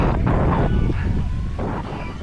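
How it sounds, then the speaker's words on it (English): Strong gusting wind roars across an outdoor microphone during a 10k running race at Victoria Park in stormy weather, a dense, loud rumble that swells and buffets continuously throughout. "The wind is looking kind of mega here actually"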